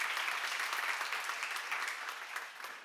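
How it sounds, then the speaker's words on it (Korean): Congregation at a church seminar applauds together in a steady, dense wash of clapping that stays fairly even and eases slightly toward the end, with no voices over it. "박수 하세요."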